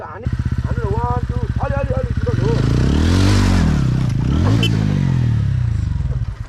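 A heavy motorcycle at a stunt show in Sauraha runs loud and close, its engine throbbing in rapid pulses and rising into a rev midway. Voices talk over it at the start.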